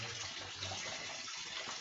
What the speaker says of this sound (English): you can see this like that water flowing in right through there